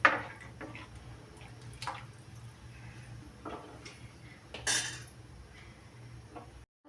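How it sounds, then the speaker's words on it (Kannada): Peanut egg curry boiling in a pot: a steady low bubbling simmer, punctuated by a few sharp utensil clinks and splashes, with no talking. "ಕುದೀತೈತಿ"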